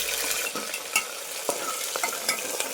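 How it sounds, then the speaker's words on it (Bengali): Four medium onions with whole white cumin and crushed garlic are stirred and fried in hot oil: loud close sizzling broken by rhythmic scraping stirs, with no one talking. "নেড়ে চেড়ে পেঁয়াজটাকে একটু লালচে কালার করে ভেজে নেব"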